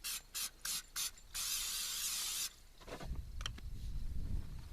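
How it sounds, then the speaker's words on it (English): Cooking spray hisses into a cast iron pan in several short bursts followed by one longer continuous spray, then soft handling clatter and low rumbling bumps, with no talk. "take our cast iron pan and some cooking spray"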